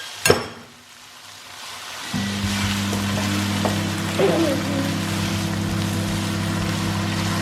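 Chopped tomatoes and tomato puree hit a hot pan for shakshuka with a sharp clatter, then settle into a steady sizzle over a constant low hum, no talking.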